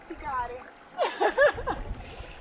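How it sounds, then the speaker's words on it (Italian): Bare feet wade through a cool stream on a ring trail near a waterfall and ruins, giving a few close, short splashes clustered in the middle, with a voice speaking briefly over them. "è arrivato il momento del guado"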